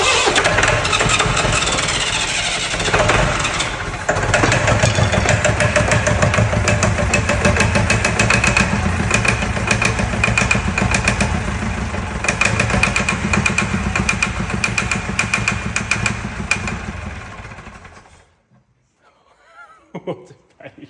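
A Perkins diesel engine, coated in dust and ash, runs loud and rough close by for about eighteen seconds and then cuts out abruptly, leaving near silence with faint rustling.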